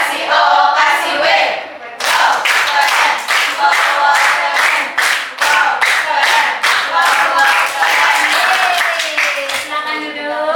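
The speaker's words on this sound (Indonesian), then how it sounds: "Tepuk tangan." Rhythmic group clapping from a classroom audience at a school lesson-study session, loud and close, with patterned claps in bursts led by a voice between rounds.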